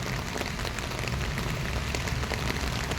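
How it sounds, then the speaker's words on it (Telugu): Heavy rain pours down steadily in a dense, unbroken hiss with scattered drop impacts, sounding close and alone without any voices. "ఇదిగో వర్షం విపరీతంగా పడుతోంది"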